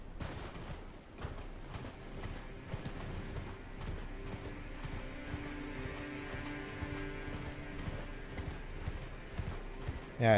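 A horse galloping in Elden Ring, its hooves beating a quick, even clip-clop rhythm that runs steadily the whole time under faint background game music, moderately close but quiet overall.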